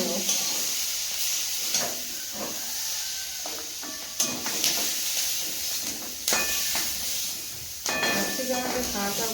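Food lightly frying in hot oil for an evening snack, a steady close hiss and sizzle running throughout with occasional utensil clinks and stirring bursts over it.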